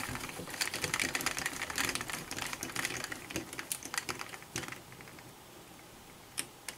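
Metal screws driven into the plastic parts of an HSP 4x4 RC truck produce rapid, close clicking and ticking in dense bursts that thin out toward the end, with one last isolated click.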